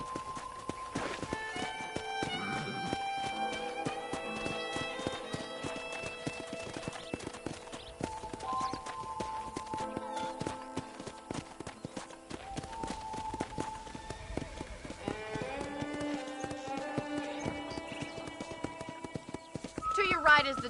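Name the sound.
horse hooves clip-clopping in video game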